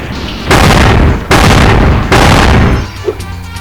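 Rockets fire and hit in Spyro: Year of the Dragon on the PS1, in the Enchanted Towers. Three loud, heavy booming blasts come one after another, each lasting under a second, and a small pop follows.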